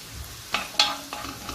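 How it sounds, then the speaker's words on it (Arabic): Onions fry in a pan, a soft, quiet sizzle broken by a few brief scraping stirs of a utensil, with no talking. "هنا البصل تاعنا شوفوا كيفاش تحمر لي مليح."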